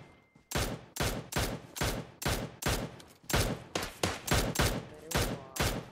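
About a dozen loud, evenly spaced gunshots from PUBG Mobile, each sharp crack trailing a short echo, fired in a steady rhythm roughly twice per second.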